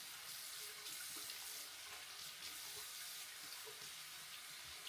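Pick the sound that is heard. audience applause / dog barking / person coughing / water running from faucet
water running from faucet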